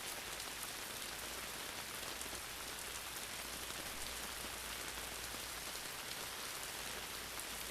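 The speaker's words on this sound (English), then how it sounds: "Let every raindrop you hear on the material above send you deeper into a more relaxed and sleepier state." Steady rain pattering on a material surface overhead, a dense continuous hiss of drops with a low rumble underneath, even and unbroken throughout with no voices.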